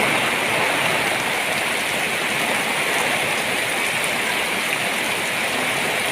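Steady, dense rain hisses continuously, a broad wash of water noise that stays loud and even the whole time, with no one speaking.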